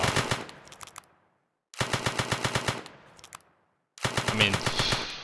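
Armed guards open fire in a video game, three loud bursts of rapid automatic gunfire, each about a second long, separated by short silent gaps, with no talking over them.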